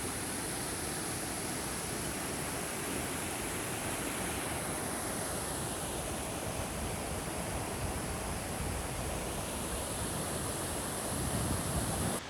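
Mountain river in the Alpine Lakes wilderness, a steady broadband rush of flowing water, loud and constant with no pauses or other sounds.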